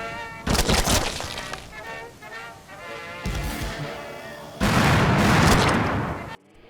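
Loud bursts of gunfire and booming explosions from the retro-style shooter game Slayers X, arriving in dense clusters with heavy rumbling blasts toward the end, a voice talking over parts of the action.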